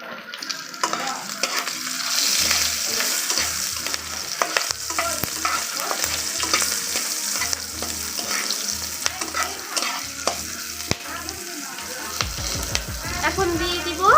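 Chopped chili hits hot oil in a pan and is stirred, giving a steady loud sizzle with scraping strokes of a spatula through the whole stretch, part of a vegetarian paneer and pointed gourd curry.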